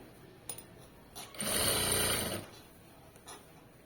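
A sewing machine stitching fabric piping, one short whirring run of about a second, close and moderately loud, with faint clicks before and after.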